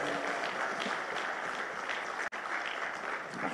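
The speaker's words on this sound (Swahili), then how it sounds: "tushangilie tena kwa makofi mengi" Sustained applause fills a book launch ceremony hall, a steady wash of many hands clapping at moderate level, with a brief drop near the middle before it carries on.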